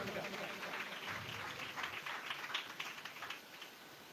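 A church congregation at a pastor's youth meeting in Odisha claps hard, a dense patter of many hands with uneven swells, loud and close, with a voice now and then over it.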